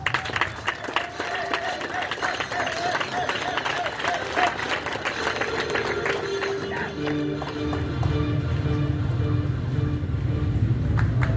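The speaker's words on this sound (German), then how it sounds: "Euer Applaus für Nico Ioannidis." Crowd applause for Nico Ioannidis at a race event, loud continuous clapping with talk over it before a deeper engine-like rumble rises in the second half.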